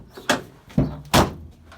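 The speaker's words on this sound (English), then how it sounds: "I can open and shut my door, which is good." A Land Rover Series 2A door opening and shutting after bulkhead repairs, giving three distinct clunks and knocks, with the last a firm, loud slam heard close up.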